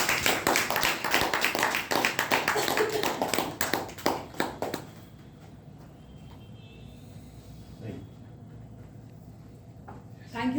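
Audience applause at a Toastmasters meeting: dense clapping for about five seconds that quickly dies away, leaving a quiet room with a few faint sounds.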